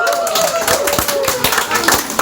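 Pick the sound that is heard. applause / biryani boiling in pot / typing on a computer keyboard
applause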